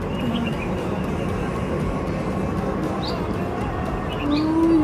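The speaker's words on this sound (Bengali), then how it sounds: "দূরে হেলিকপ্টার যাচ্ছে" A helicopter drones faintly in the distance over the hills of Kashmir as a steady low rumble, with a few bird chirps scattered over it.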